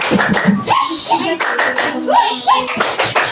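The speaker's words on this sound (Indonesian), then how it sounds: "Ya, tepuk tangan." A school class clapping hands in rhythmic patterned bursts, close and loud, mixed with children's voices chanting and talking over the claps.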